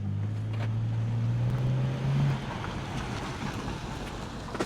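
A salvage-auction BMW car with a doctored repair, driven up a yard, its low engine drone steady and fairly near before easing off into a quieter hum with wind-like noise.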